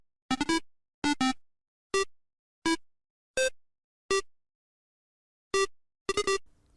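A hidden melody in Nintendo video games plays as a short run of bright synthetic beeping notes in an uneven rhythm with pauses between them, heard clearly on its own.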